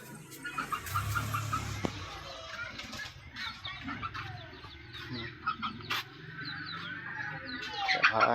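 A mixed backyard flock of ducks, chickens and pigeons being herded into their coop, with intermittent clucks and bird calls scattered throughout, some close and some farther off, amid background activity.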